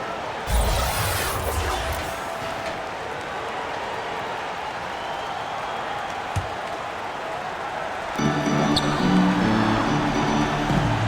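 Crowd noise fills an NBA 2K basketball video game between the Pistons and Heat, a steady broad roar of applause and cheering throughout, louder bursts near the start and end, with game commentary underneath.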